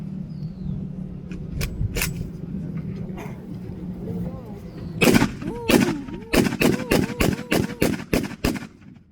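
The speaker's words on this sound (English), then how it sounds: "Walking fire was the idea that machine gun or full automatic fire would accompany the squad as they attacked the enemy." An M1918 Browning automatic rifle fires full automatic during a US Army history demonstration at an Air Force base, loud percussive bursts of rapid shots closing in a dense rhythmic string, over a droning engine hum, with someone talking.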